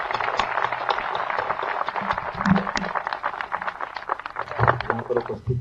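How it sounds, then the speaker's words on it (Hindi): A crowd claps in dense, steady applause at a public speaking event, the rapid overlapping claps continuing for several seconds and swelling slightly near the end, with no voice over it. "एक बार तालियां बजा दीजिए"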